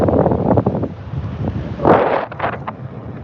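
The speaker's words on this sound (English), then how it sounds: "I hope you can hear me okay, because it's windy." Gusty wind buffeting a microphone on a beach on Marco Island, Florida, producing low rumbling bursts that swell and fade, loudest around the middle, with no voices.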